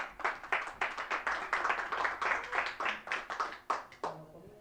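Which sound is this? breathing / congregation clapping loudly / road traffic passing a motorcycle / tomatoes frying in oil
congregation clapping loudly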